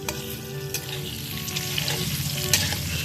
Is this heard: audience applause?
no